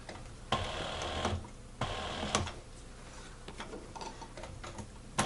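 A sewing machine back-stitching leather for a pocket organizer: short bursts of rapid mechanical ticking stitches separated by pauses and small clicks, close and moderately loud.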